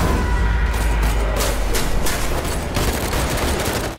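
Rapid gunfire in a TV drama fight scene, a dense fusillade of loud overlapping shots and booms that runs throughout without pause before cutting off abruptly.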